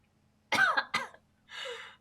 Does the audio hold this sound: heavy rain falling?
no